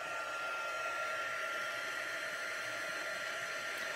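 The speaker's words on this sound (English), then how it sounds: "If you have your embossing tool heating up, it will help it to melt faster." Heat embossing tool blowing hot air during card making, a steady, loud, unbroken whoosh of fan noise that holds evenly throughout without pauses.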